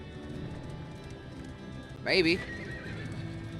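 A horse whinnies sharply once, loud and close, from the team pulling a stagecoach in Darkest Dungeon 2, over a steady background of hoof clatter and low ambience, with a brief spoken word.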